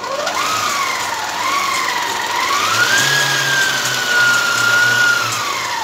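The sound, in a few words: Silver Crest stand mixer running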